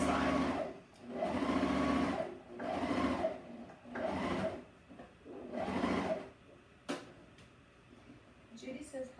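A twin-needle sewing machine stitches a T-shirt hem over a serged seam in several loud, steady runs of a few seconds each, with short pauses between bursts and a brief click near the end.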